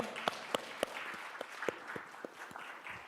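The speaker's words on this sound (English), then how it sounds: "another wonderful round of applause for these fine folks up here" A small audience at a career night gives a quiet, sparse round of applause, a few distinct claps spaced out over soft murmuring, heard from a distance.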